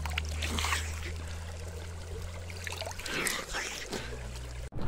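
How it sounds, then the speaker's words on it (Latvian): A small outdoor stream trickles and splashes softly in a continuous wet babble, close by, with slight shifts in intensity and no clear speech over it. "vismaz es esmu atradis mazu tādu upīti"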